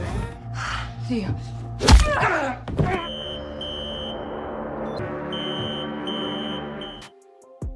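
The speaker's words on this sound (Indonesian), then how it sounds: "Simon pergi karena alarm hotel telah berbunyi" A loud thud and some clattering, then a hotel fire alarm sounds a steady electronic tone repeatedly in pulsing beeps before cutting off near the end.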